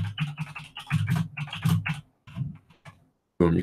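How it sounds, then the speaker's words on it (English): A loud computer keyboard clatters in quick, dense keystroke bursts close to the microphone, with short pauses between runs, during a live stream at a desk. "you can probably hear that really loud keyboard right there."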